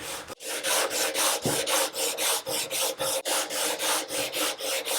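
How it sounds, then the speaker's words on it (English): A Brazilian rosewood fingerboard is sanded toward a 12-inch radius with steady, rhythmic back-and-forth rasping strokes, close and loud, about four per second without pause. "Still needs a bit more sanding down to get the edges down to that point."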